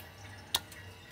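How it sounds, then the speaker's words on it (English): Coolant from a Maserati Quattroporte during a safety inspection lands as one faint, sharp drip in the middle of a low, steady hum. "What we have, yeah, we have coolant dripping"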